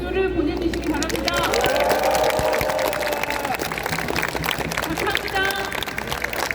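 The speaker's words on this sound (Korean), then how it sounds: "현장에서 대응하고 있는 소방관들에게 여러분들 격려의 박수를 보내주시기 바랍니다" Crowd at an outdoor election rally on the Kim Dae-jung Center plaza in Gwangju applauds the firefighters and injured workers, sustained dense clapping mixed with cheering voices, loud and continuous throughout.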